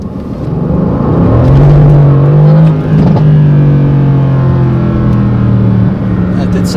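A 2018 Mercedes-AMG GT C Roadster with 557 horsepower drives at night. Its engine and exhaust give a loud, close, sustained drone that rises in pitch and dips slightly between gears, under some talk.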